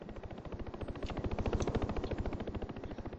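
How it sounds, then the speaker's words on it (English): Rapid automatic gunfire and explosive bursts roar loud and continuous from a military video game firefight, with an enemy firing rockets at the player, a fast steady rhythm of shots packed together with no speech. "he's firing rockets at us"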